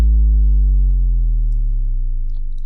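A low synth tone built on a triangle wave plays alone in a metal mix, a sustained note with clear stacked harmonics that glides slowly downward while staying loud and steady.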